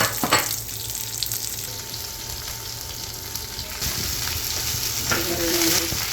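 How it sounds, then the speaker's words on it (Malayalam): Dried red chilies, shallots, fennel seeds and fenugreek sizzle in hot oil for tempering, a close, continuous frying hiss broken by a few sharper crackles and stirring knocks. "ഇതിലേക്ക് വറ്റൽമുളക്, കുറച്ച് ചുവന്നുള്ളി, അതുപോലെ പെരിഞ്ചീരകം, ഉലുവ, ഇത്രയാണ് താളിക്കാൻ പോകുന്നത്"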